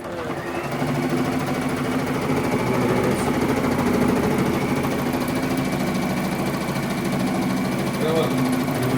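Sewing machine running a regular straight stitch at stitch length two and a half, a steady continuous mechanical whir with fine rapid needle ticking that holds loud and unbroken throughout.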